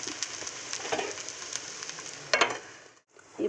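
Kara kuzhi paniyaram sizzle in a covered pan, making a soft steady crackle with a few sharper pops and a brief dip near the end.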